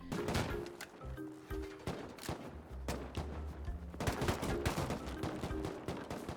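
Rapid bursts of gunfire in the video game Rust crackle throughout, single shots and quick volleys overlapping in a dense, chaotic exchange with no talking.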